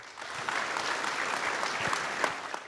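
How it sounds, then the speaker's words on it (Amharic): An audience at an award dinner applauds steadily, a dense wash of clapping from a crowd heard slightly at a distance, holding constant throughout. "ለካፒቴን ሰለሞን ግዛው ሞቅ ያለ ጭብጨባ ያስፈልጋል"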